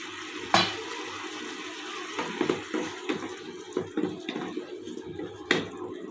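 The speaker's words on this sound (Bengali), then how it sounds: "এটা একটু কষিয়ে নিব।" Chopped tomatoes being sautéed and stirred in a pot for a mixed beef, chicken and pigeon curry, with a soft sizzle under repeated scraping and clattering of a spoon against the pot, close and intermittent.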